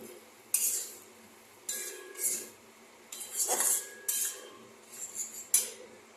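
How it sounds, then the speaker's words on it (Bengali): Spices with Kashmiri chilli being sautéed in a pan, heard as a series of separate spatula scrapes and metallic clinks in short bursts with quiet gaps between them. "এটা ভালো করে এবারে মশলাটা কষাবো"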